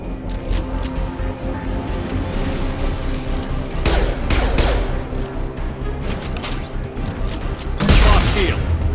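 Bursts of gunfire and heavy explosive blasts from a grenade launcher against mechs in the video game Mass Effect 2, loud and rapid, with a voice talking over the combat.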